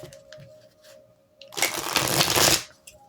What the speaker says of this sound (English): we're going to shuffle it a few times